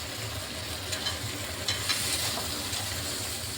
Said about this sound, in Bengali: এখানে আমি কাঁঠালের দানাগুলো দিয়ে দিচ্ছি একসাথে সবগুলো ভেজে নিচ্ছি